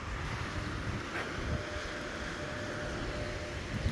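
Continuous wind blows hard against the microphone, a dense low rumble with occasional gusts and no speech.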